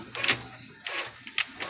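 An Epson L3210 inkjet printer works nearby in three separate mechanical bursts of whirring and paper-feed rattle, with short quiet gaps between them; nobody speaks.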